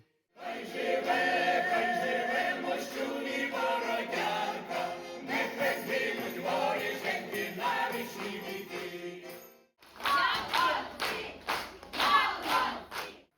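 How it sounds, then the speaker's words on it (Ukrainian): Festival concert audience in Hostomel applauds warmly, a dense continuous clapping that runs for about ten seconds, breaks briefly, then resumes with scattered bright claps. "Зал усіх зустрічав тепло, не шкодував овацій."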